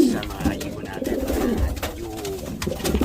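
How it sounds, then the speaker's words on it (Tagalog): Pigeons coo in soft, repeated low calls close by while someone talks over them. "nagbabalik na naman tayo sa mga ibon natin"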